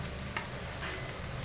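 Sliced onions frying with a pinch of salt in a pan for a chicken curry, a dense continuous sizzle with stirring scrapes, close and steady throughout.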